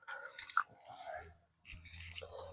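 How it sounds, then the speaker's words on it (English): Someone chews a piece of gum close to the microphone, wet smacking and clicking bursts in two short runs separated by a brief pause, with a low hum underneath. "I gotta chew on the chewing gum."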